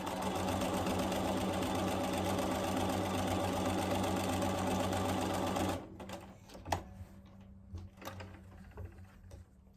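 A sewing machine stitches together pieces of fabric for crumb quilt blocks, running in a steady continuous whir for about six seconds before stopping, followed by faint handling clicks.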